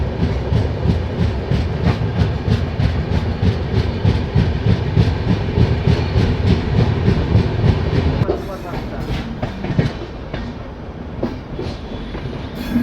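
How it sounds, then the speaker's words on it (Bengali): A passenger train on the New Delhi–Malda Town route rolls slowly into Bhagalpur Junction in the evening, its wheels clicking and clattering rhythmically, loud and close, before the rolling noise suddenly drops to a quieter rumble near the end. "সন্ধে প্রায় 6:45 সময় ট্রেন ধীরে ধীরে ভাগলপুর জংশন এন্টার করছে।"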